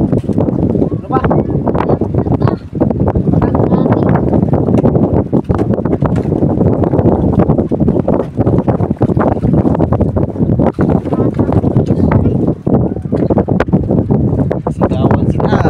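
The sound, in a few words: wind blowing into the microphone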